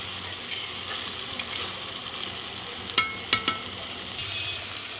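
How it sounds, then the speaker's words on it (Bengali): Fish bharta sizzles and fries in a covered pan while being stirred, a steady soft crackle with a few sharp scraping clicks of the utensil against the pan, close and fairly quiet. "এবার একটু নেড়ে চেড়ে দেখব তল থেকে লেগে গেছে কিনা"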